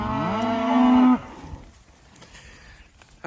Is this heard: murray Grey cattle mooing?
yes